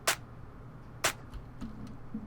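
Layered clap sample from a tech house track hits twice about a second apart, sharp and bright, over a soft low beat with faint ticking between the hits.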